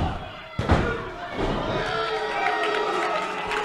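A wrestler is driven onto the mat with a bulldog-into-flatliner move, one sharp heavy slam early on, followed by a cheering crowd and a commentator talking.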